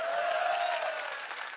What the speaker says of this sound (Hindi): पंक्तियां पहुंच जाए तो इस बार ताली बजाना